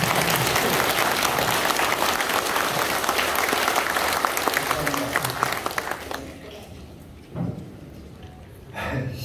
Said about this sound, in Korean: 박수와 환영하겠습니다.